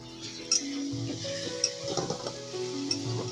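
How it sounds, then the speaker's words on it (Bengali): Onion, garlic, ginger and tomato masala with salt and turmeric frying in a pan, a steady close sizzle broken by scraping and clinking from a spoon stirring. "এই পেঁয়াজ, রসুন, আদা, টমেটো, নুন, হলুদ সব দিয়ে মশলা কটা ভেজে নিচ্ছি।"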